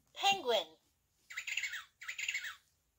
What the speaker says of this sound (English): and her penguin.